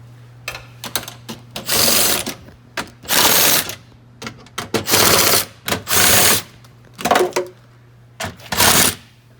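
Short rapid ratcheting bursts from a socket tool backing bolts out of a Tesla battery pack, several repeated runs separated by pauses over a steady low hum.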